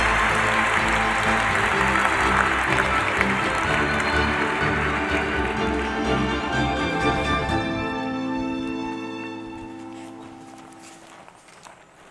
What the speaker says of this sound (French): je vous invite à venir me rejoindre sur scène sous vos applaudissements